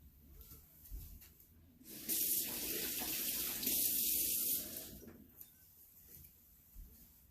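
Water running from a tap into a cooking pot for about three seconds, a steady close hiss that stops abruptly, with quieter kitchen clatter before and after.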